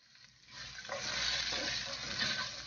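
Garlic hits hot oil in a pan with cumin and cloves and breaks into a steady, close sizzle that swells after the first half-second and holds without talk.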